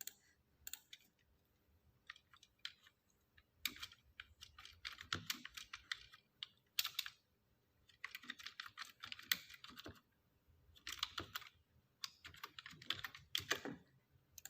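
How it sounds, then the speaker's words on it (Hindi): Typing on a computer keyboard while building a table in a word processor: bursts of quick, crisp key clicks separated by short pauses, close and fairly quiet, with no voices. "हम यहाँ पर इंग्लिश में टाइप करेंगे"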